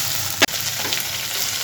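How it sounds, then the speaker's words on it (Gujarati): Okra shallow frying in oil in a pan gives a steady, close crackling sizzle, broken once near the start by a sharp clatter, likely from stirring or food dropping in. "ભીંડીને આપણે શેલો ફ્રાય કરીશું"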